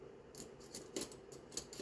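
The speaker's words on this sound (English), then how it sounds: "a pair of scissors to trim off the edges" Close, quiet snips of scissors trimming the edges of a napkin, about five or six crisp cuts in an uneven rhythm with no talking.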